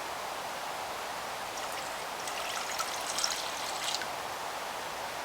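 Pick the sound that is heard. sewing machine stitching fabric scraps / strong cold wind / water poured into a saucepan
water poured into a saucepan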